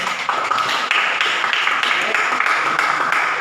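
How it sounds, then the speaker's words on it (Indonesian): A school class in a math lesson applauds a student group, with steady, fairly loud clapping from many hands filling the room for several seconds. "tepuk tangan dulu untuk kelompok 2."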